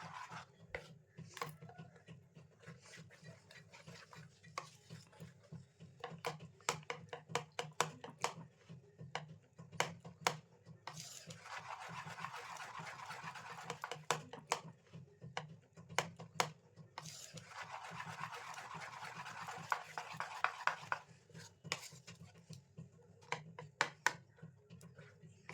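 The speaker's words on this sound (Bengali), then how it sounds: "20 মিনিট পর ঢাকা খুলে মিশ্রণটি খুব ভালো করে ফেটিয়ে নিতে হবে।" Moong dal batter mixed with nolen gur, date palm jaggery, being beaten in a bowl, giving quiet rapid taps and clicks that repeat irregularly, with two longer stretches of soft hissing in between, faint and close.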